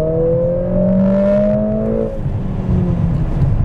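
A Mercedes AMG 45 in sport mode accelerates hard, its engine note climbing steadily in pitch through a gear before dropping back to a rougher, lower drone; loud and close, with no talking.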